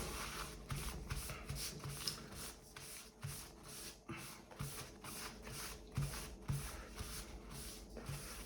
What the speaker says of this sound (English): I'm going to take a piece of kitchen towel and I'm going to give that a good clean